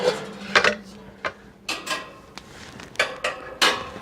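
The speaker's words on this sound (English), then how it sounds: "I could hang this with this lid" A stainless steel pan lid with a handle clanks against a stainless pan handle as it is hung there. Several distinct close metallic knocks and scrapes are spaced through the moment, with no talking.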